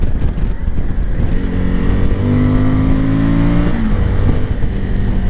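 A 2023 Suzuki V-Strom 1050 DE two-cylinder motorcycle engine pulls hard under acceleration, its loud, close throbbing drone climbing in pitch over a rushing background, with no talking.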